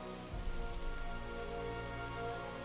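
Steady rain falling and pattering on a surface, a dense, even hiss with close drops, faint and continuous with no voices.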